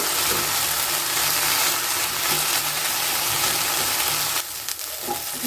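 Okra frying in a pan over a medium flame for a Havyaka-style bendekayi dish, a steady loud sizzle with light stirring that quietens slightly near the end.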